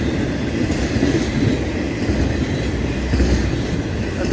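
A long freight train of mostly intermodal cars rolls steadily past at close range, a continuous loud rumble with rail noise and faint clacking throughout, no voices.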